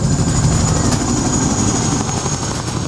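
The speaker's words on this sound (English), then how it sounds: "Casualties are recovered from the front line by a Chinook helicopter, Britain's military air ambulance." A Chinook military helicopter flies close by, its loud thudding twin-rotor chop and turbine whine rolling continuously and fading slightly toward the end, with no voices.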